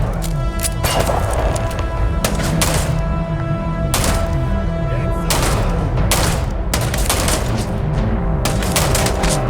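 Dense, continuous gunfire from a Starfield firefight, with rapid bursts and repeated loud shots hammering throughout over a constant backdrop of combat noise, with no clear pauses.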